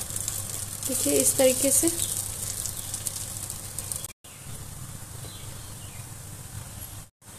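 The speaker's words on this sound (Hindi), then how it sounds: "अब इन सबको उलट पलट के फ्राई कर लेंगे।" Chana dal pieces sizzle in hot oil in a pan, a steady close crackling hiss that continues with brief pauses while a person speaks over it.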